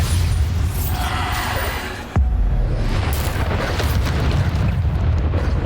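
Bombarda blasting spell in Hogwarts Legacy, a loud booming explosion with a sharp crack midway, then a rumbling roar of debris and noise that continues steadily afterward.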